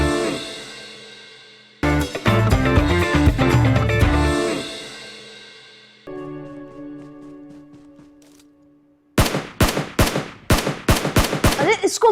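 Gunfire from the video game PUBG plays in a TV drama scene: rapid automatic bursts and single loud shots, separated by quieter game sounds and ending in a dense volley of sharp cracks.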